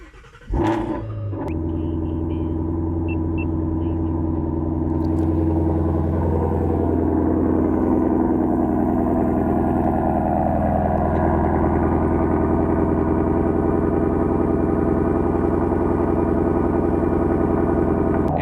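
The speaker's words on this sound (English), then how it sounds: "And here it is, the last official cold start on the GT350." A Ford Mustang GT350 V8 fires up from a cold start on its stock exhaust, a sharp burst of cranking and catch followed by a loud, steady, deep rumbling high idle that holds close and alone throughout.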